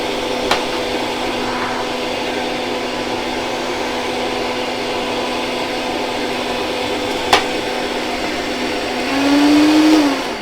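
A Vitamix blender blends fruit with a loud, steady motor whine throughout, a couple of sharp knocks along the way, and a rising pitch swell near the end.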